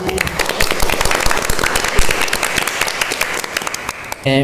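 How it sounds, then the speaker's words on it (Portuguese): Dense applause from a small audience greets the guests of a podcast, with rapid overlapping claps close by for about four seconds before a voice cuts in at the end. "palmas para elas, gente"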